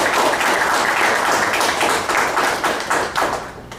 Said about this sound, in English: we should give them a round of applause for all they've done for both schools